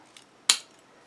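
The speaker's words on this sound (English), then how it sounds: "snip off what I need" A single crisp snip of scissors cutting through craft paper for a mini album, close and brief, preceded by a faint softer click, with no talking.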